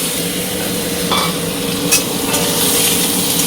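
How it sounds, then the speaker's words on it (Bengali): Mustard seeds and chopped raw mango hit hot oil in a pan, giving a steady, close sizzle with a few brighter pops and spatters along the way. "তেল দিয়ে দিলাম, সর্ষে দিয়ে দিলাম, কেটে রাখা আমটা দিয়ে দেবো"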